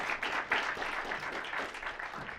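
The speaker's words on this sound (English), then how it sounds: "So give Chris a big round of applause." An audience at a cryptocurrency conference applauds a speaker, a dense wash of steady clapping for a couple of seconds with no voices over it.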